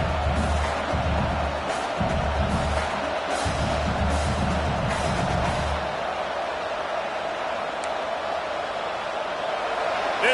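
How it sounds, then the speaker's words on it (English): Football stadium crowd at a Nebraska vs Iowa college game, a steady broad roar with surges of cheering and low rumble, heard under a commentator's voice. "This crowd trying to make life miserable for this offense."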